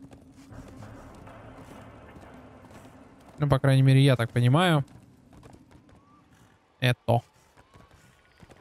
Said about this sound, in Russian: Это звук восполняющихся ускорений у нашей лошадки.